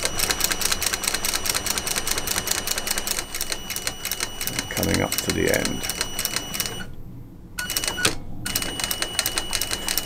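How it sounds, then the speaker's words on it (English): A domestic sewing machine geared down with pulleys stitches a leather bag, its steady mechanical clatter running close and continuous with a couple of brief pauses, under someone talking briefly. "I've geared this sewing machine down with pulleys."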